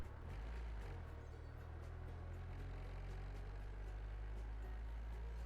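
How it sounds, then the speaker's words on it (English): Steady low engine drone of a tractor in a video game, a constant loud rumble with no change in pitch for the whole stretch, heard alone. "Yeah, okay, that's a tractor."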